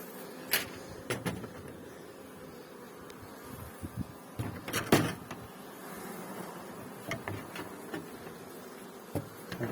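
A captured swarm of honey bees hums as a low, continuous drone near a beekeeper's frames, broken by occasional knocks and clicks of wooden frames and hive parts being handled.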